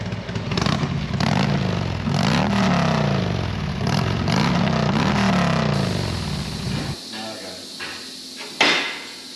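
A Harley-Davidson Road King motorcycle engine runs loud and close with a steady, lumpy idle for about seven seconds, then cuts off, leaving quiet clatter and a brief sharp knock near the end.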